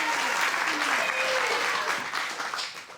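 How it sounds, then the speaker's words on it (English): A studio audience at a high school quiz show semifinal breaks into steady applause, a dense sustained wash of clapping that holds loud for about two seconds and then thins and tapers toward the end. "And now you can clap"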